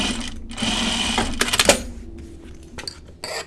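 Sewing machine stitching fabric binding, a fast mechanical whirring run with rattling clicks, then stopping and a short restart, fairly quiet and close.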